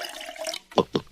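Water from a kitchen sink tap pouring into a glass, a running stream followed by three short splashing bursts, close and loud, with no talking.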